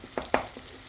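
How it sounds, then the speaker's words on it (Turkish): Eggs frying in a pan, heard as a soft, faint sizzle with two or three short knocks of a utensil against the pan. "Hemen şöyle yumurtalarımızı tavada güzelce bir pişirelim."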